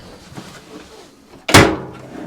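A heavy LG dryer door is handled and set down, with faint shuffling first and then a single loud, close thud and rattle.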